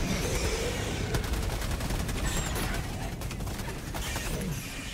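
Heavy gunfire and artillery fire from a video game battle crackle in dense, rapid bursts that overlap almost without a break at a fairly loud level.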